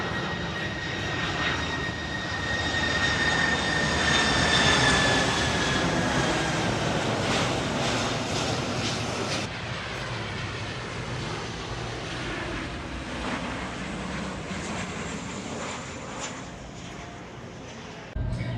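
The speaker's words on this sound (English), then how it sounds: "That's the famous one where all the planes come down, they land." An airliner on final approach over Maho Beach toward the runway, its engine roar loud and sustained for the whole stretch, swelling and then easing slightly as it passes, heard from a high hotel floor.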